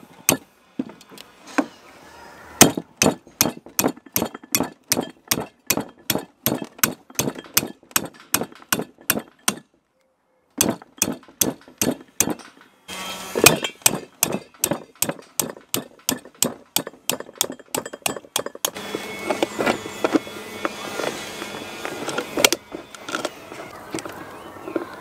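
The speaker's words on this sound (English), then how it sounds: "Right, I'm going to hit this with a hammer." Repeated sharp metallic hammer blows on a stuck saildrive part on a boat, in steady bursts, dozens of strikes with brief pauses between runs, close and loud.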